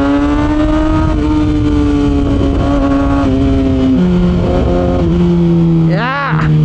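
A Kawasaki ZX6R inline-four motorcycle fitted with an SC Project exhaust roars loud and close, its pitch stepping down through several shifts before a sharp rising rev near the end, with riding wind underneath.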